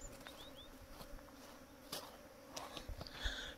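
Small honeybees buzzing around outdoors in a hilly village, faint and intermittent against soft background noise, with brief passes and a few light knocks and rustles.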